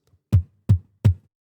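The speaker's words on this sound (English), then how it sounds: "So let's try this with a kick drum," Three punchy kick drum hits from a loop run through a high-pass filter on a Boss RC505-MK2 looper, evenly spaced and close, with short thumping decays and no voices.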